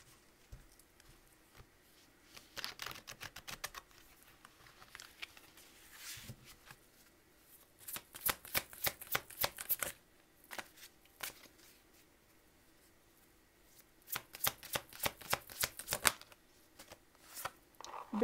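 Tarot cards being handled and shuffled, with bursts of rapid riffling flutter in several rounds separated by quieter pauses, close and crisp.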